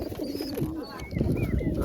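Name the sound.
pigeons cooing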